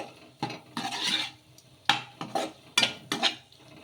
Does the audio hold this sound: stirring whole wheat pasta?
yes